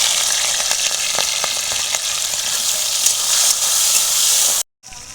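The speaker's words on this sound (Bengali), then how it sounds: "চিংড়ি মাছ ভেজে নিচ্ছি।" Prawns frying in a hot pan give a loud, steady close sizzle with occasional stirring scrapes, continuing for several seconds before a brief cut.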